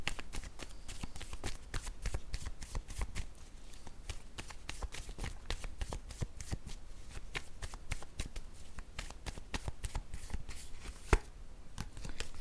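Tarot cards being shuffled and drawn, a close, continuous run of crisp flicking and slapping riffles at a quick, even pace, with one sharp snap near the end.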